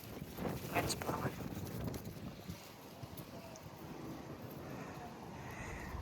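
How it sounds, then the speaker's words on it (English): Wind blowing across a backyard vegetable garden, gusty rumbling microphone buffeting that is strongest early and then settles into a steady outdoor rush, with a person's voice heard briefly over it. "Wind's blowing."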